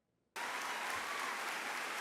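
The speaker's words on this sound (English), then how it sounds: "It got a pretty good round of applause." An audience bursts into a round of applause after a brief quiet moment, with steady, dense clapping continuing to the end and no talking.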